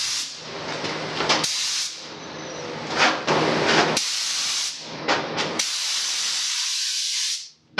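Top coat is spray-painted onto metal motorcycle parts: loud, close aerosol hissing in repeated bursts, some long and some short, broken by brief silent gaps.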